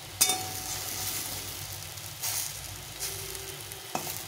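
Gondho leaf fritters frying in just a little oil give a steady close sizzle, with a few sharper pops and brief scraping stirs standing out from the hiss.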